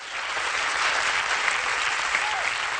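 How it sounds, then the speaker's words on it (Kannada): Loud, sustained applause from a television studio audience at a Kannada couples' game show, filling the whole stretch at steady volume with no break. "ಜೋರಾದ ಚಪ್ಪಾಳೆ."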